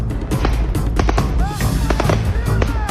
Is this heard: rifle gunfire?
yes